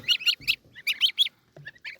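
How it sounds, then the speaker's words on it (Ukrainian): Small goslings kept in a cage peep close by in quick, shrill bursts. The bursts come in two clusters of three calls each, then sparser cheeps follow, with no voices over them. "Гусики які маленькі."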